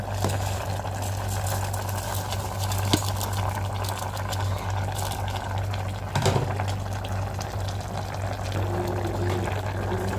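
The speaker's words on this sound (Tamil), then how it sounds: "தண்ணி வந்து நல்லா கொதிக்க ஆரம்பிச்சிருச்சு." Steady bubbling of water on the boil in a pot, a continuous low rumble with a broad hiss on top, close and fairly loud, with a couple of faint clinks.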